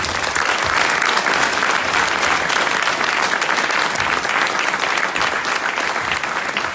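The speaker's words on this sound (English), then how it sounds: "Another big applause to our speaker." An audience at a machine learning talk gives a sustained, loud burst of applause, dense steady clapping from many hands filling the room without letting up.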